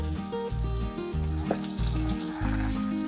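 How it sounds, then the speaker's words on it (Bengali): Tomatoes sizzle in a hot pan with garlic, ginger and onion for moong dal, a continuous close frying hiss with a light clink of a utensil, no talk. "এবার টমেটোটা দিয়ে দেবো।"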